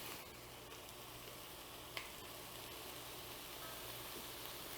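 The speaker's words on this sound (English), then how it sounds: "And now we want to just let it saute for a couple of minutes." Three sisters salad ingredients sautéing in a pan, a steady, quiet sizzle and crackle continuing throughout with no talk.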